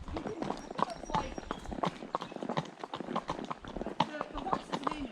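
Horse hooves clip-clop steadily on a mountain trail ride, a regular rhythm running under close conversation between riders.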